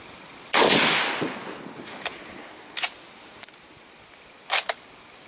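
Several gunshots from an antique magazine-fed Lee Enfield .303 rifle, fired outdoors while hunting in New Zealand: one loud sharp crack with a long decaying tail, then a few fainter, shorter reports spaced irregularly over several seconds.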